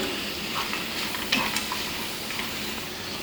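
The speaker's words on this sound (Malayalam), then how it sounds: "നല്ല പഴുത്ത തക്കാളി മൂന്നെണ്ണം സ്ലൈസ് ചെയ്ത് ഇതിലേക്ക് ചേർക്കാം നമുക്കിതൊരു പത്ത് മിനിറ്റ് നന്നായിട്ട് വഴറ്റിയെടുക്കാം" Sliced ripe tomatoes and nuts sautéing in a pan for paneer butter masala, giving a steady hissing sizzle with a couple of soft stirring clicks near the middle, and no talking.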